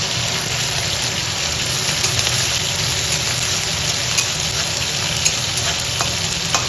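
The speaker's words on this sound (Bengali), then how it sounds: "কুমড়ো শাকগুলো ভেজে নেবো" Pumpkin leaves fry in a pan with a dense, even hiss and low rumble, a few light clicks of stirring on top, steady and close with nobody speaking.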